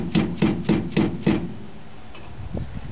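Four sharp, evenly spaced knocks as a wood block strikes a Ford Ranger axle shaft seal to knock it loose, close and loud, followed by quiet small clatter.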